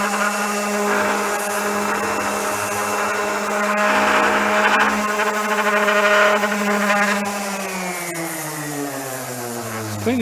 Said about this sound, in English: All I'm using on it is just a DeWalt sander.